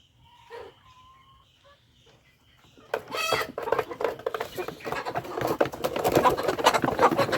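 Kadaknath black chickens cluck and squawk in a farm run in Eramangalam, Malappuram, the noise rising and thickening toward the end as someone speaks nearby.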